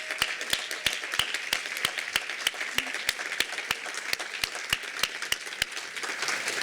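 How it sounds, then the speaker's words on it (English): An audience at a panel event on community schools applauds the panelists, steady crowd clapping with a few sharp, regular, louder claps standing out near the microphone throughout. "I would love for us to give our panelists a big round of applause"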